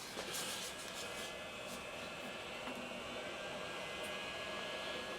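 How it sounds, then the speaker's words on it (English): Heat gun blowing hot air over heat-shrink tubing on an AKG headphone cable repair, a steady close, continuous whooshing hiss that holds level throughout with no pauses. "crank up the heat gun"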